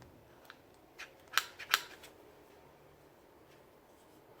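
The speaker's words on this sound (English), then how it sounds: "using a little corner rounder." Small corner rounder punch trimming paper corners for a stationery set, heard as two sharp, close snips over quiet room tone with faint handling clicks around them.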